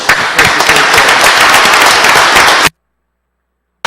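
A dense, loud burst of applause fills a municipal board of commissioners meeting room in Nutley, New Jersey, with steady clapping from a crowd that cuts off abruptly into silence.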